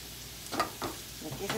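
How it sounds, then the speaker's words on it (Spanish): Jalapeño chile fries in a pan, giving a soft sizzle with a few brief stirring scrapes. "Aquí va el chile, ok, doradito, que se dore."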